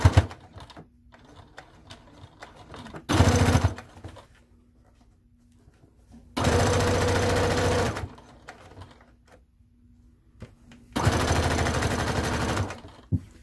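A sewing machine stitches around a circular fabric travel pouch in three separate loud bursts of steady, rapid whirring, with quiet pauses between them.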